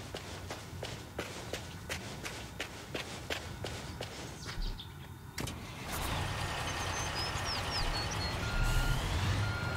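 A truck in Construction Simulator, a video game, gives a steady run of evenly spaced reversing beeps over engine rumble and footsteps, later giving way to a louder continuous engine drone, with no speech.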